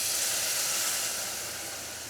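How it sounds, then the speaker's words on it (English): Warm milk poured into a hot pan for mac and cheese, giving a loud, steady hiss and sizzle with a broad steamy roar that fades slightly toward the end, with no talking. "It makes a sizzling sound."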